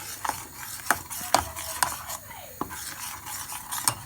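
A spoon stirs cheese into thick macaroni cheese sauce in a pot, with soft wet scraping and a few sharper clinks against the pot's side in an uneven rhythm.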